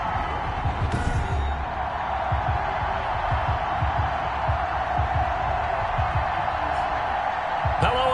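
Stadium crowd in an NFL video game, Cincinnati Bengals against Atlanta Falcons, a steady broad roar of cheering fans filling the background throughout, with a few sharp thuds over it.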